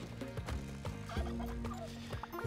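Turkey gobbling from the video game Spelunky 2, a rapid warbling call repeated in short bursts over game music and effects, with no talking.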